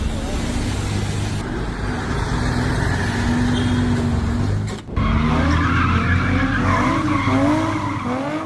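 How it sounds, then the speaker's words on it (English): A Nissan GT-R's tires squeal and skid as the car struggles to park, a loud continuous screech with engine noise, broken by a brief dip midway before the squealing resumes. "A lovely Nissan GTR struggles to park properly."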